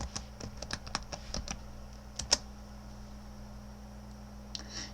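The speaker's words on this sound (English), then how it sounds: "Type your password and press return." Keystrokes on a computer keyboard as a password is typed into Windows 98 running in VMware Player: a quick run of about ten separate clicks over two seconds, then a few more taps, close and fairly quiet over a steady low hum.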